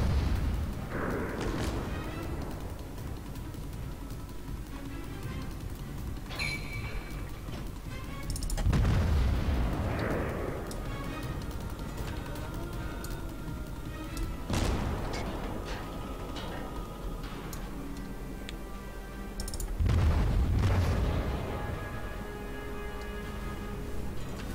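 Naval cannon salvos in the World of Warships naval combat game: three heavy booming broadside volleys roughly every five to six seconds, loud and close, over a steady low rumble of ocean and engine ambience with no talk.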